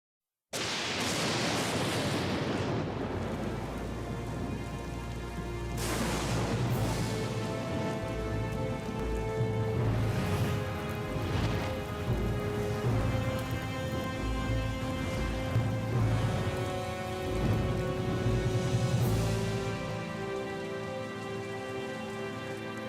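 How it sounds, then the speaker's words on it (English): A steady downpour of thunderstorm rain in Professor Layton vs Phoenix Wright, with thunder cracks and rumbles breaking through at intervals over a continuous hiss, no voices. "There was a thunderstorm on the way, and as the storm drew nearer,"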